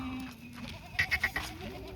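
Red Kathiawari goats at a livestock market give a short burst of bleats, a few quick wavering calls close by over low background murmur and rumble.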